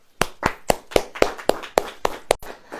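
A church congregation claps in unison, nine crisp, evenly spaced claps at a brisk steady beat, loud and close with no talking.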